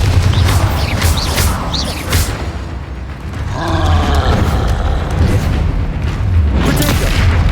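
A booming blast from the Confringo spell in a video game erupts with deep rumbling low-end, swelling and rolling through a sustained loud roar with a few sharper hits.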